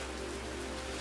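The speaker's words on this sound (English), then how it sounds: "Now it is raining, which is a bummer" Steady rain falling in the Minecraft modpack InsaneCraft, a constant soft hiss of raindrops with no other sounds.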